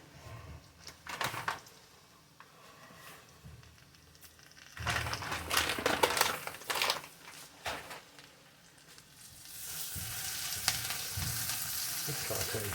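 Food sautés in a pan with a crackling, hissing fry that swells loudly midway and again toward the end, with occasional stirring scrapes.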